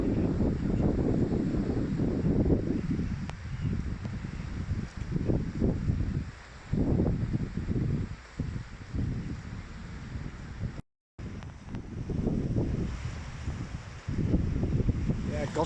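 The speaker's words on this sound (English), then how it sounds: "Gust front passing over here" Strong gust-front wind buffets an open microphone at a loch marina, a continuous roaring rumble that rises and falls, briefly cutting out, with a voice speaking over it.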